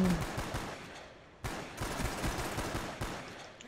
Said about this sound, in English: M14 single fire assault rifle